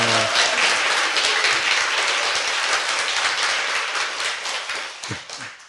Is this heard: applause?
yes